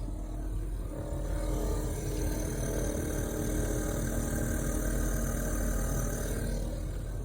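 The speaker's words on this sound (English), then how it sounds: "your diesel heater, your cheap Chinese diesel heater, is not supposed to make noise like that." A cheap Chinese diesel heater running with an abnormal noise: a steady, loud droning hum with a rough rumble underneath, continuous and unchanging for the whole stretch, with no one talking.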